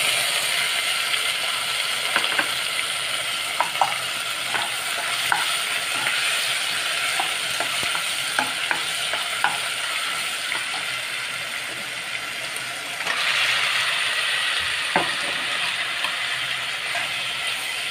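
Chopped onion sizzles in a hot pan while a spoon scrapes and stirs it in a steady rhythm of clicks and scrapes. The frying hiss stays loud and close throughout and grows brighter near the end.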